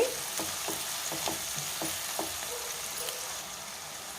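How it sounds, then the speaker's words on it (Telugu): Cauliflower florets frying with salt in a pan, giving a steady close sizzle broken by several light stirring scrapes and taps; no one speaks. "కొంచెం సాల్ట్ వేసి వేయించుకుందాం."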